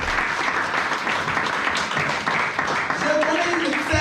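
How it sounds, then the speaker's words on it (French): A church congregation claps and cheers during a sermon, a dense, steady wash of applause filling the whole stretch, with some voices calling out underneath. "Acclamons pour ceux qui ont dit qu'il n'y a pas de limite."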